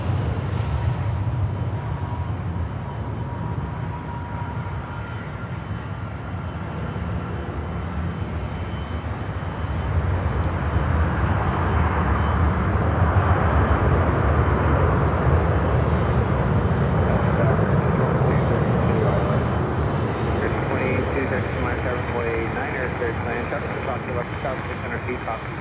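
A jet airliner on final approach to runway 9 at Miami airport rumbles steadily, its broadband engine roar swelling louder about midway and holding as it nears, with no talk over it.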